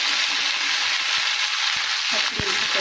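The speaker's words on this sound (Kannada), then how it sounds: "ಒಂದು ಚಮಚ ಉದ್ದಿನಬೇಳೆ, ಇವನ್ನೆಲ್ಲ ಚೆನ್ನಾಗಿ ಫ್ರೈ ಮಾಡ್ತೇನೆ ನೋಡಿ." Urad dal and spices fry in hot oil in a pan, giving a steady, close sizzle with a few small stirring clicks and no talk.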